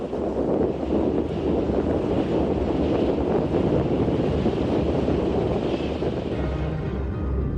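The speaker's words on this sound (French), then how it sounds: "Ici, la vitesse moyenne du vent est de 64 km/h." A strong wind averaging 64 km/h blows steadily at an exposed site, a loud continuous roar and buffeting rush with no pauses throughout.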